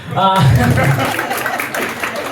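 An audience applauds a comedian: a voice opens briefly, then a burst of clapping and cheering follows and gradually thins out.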